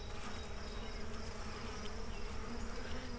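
Honey bees buzzing steadily and close as they are shaken off a queen cage at a nuc hive, a dense continuous hum with no talk over it.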